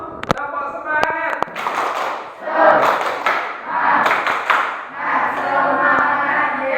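A class of schoolchildren performs a rhythmic 'tepuk semangat' spirit clap. A few sharp, loud claps are followed by children's voices chanting together in bursts, close and lively.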